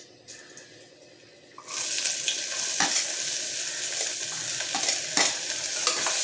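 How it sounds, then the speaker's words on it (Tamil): Onions and fennel sautéing in a pan for Chettinad-style country chicken soup, a loud steady sizzle that starts abruptly and carries on with occasional stirring scrapes, no speech. "வெங்காயம் நல்லா பொன்னிறமாக வதங்கட்டும்"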